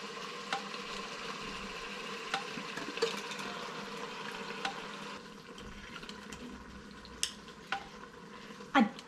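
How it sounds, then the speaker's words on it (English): Tinned tomatoes going into browned beef in a Midea Instachef, a soft wet sizzle and bubbling with occasional spoon clinks and stirring scrapes, fairly quiet and close. "Now that my meat is nice and brown, I'm going to add a tin of tomatoes"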